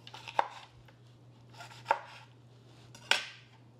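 A knife cuts cucumber into thin julienne strips on a board, with three crisp, separate chops about a second apart, close and clear over a faint low hum.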